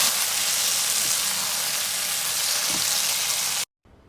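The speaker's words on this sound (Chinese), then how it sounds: "一点老抽、糖，再来点盐，翻炒均匀就可以吃了。" Braised pork being stir-fried with dark soy sauce, sugar and salt gives a steady, close hiss of frying that runs evenly, with a faint scrape or two, then cuts off abruptly near the end.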